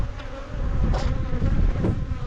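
Honey bees drone steadily around an open hive in a nuc yard, a dense close buzz that swells slightly as single insects pass near the microphone, with no voices.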